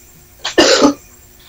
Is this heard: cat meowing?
no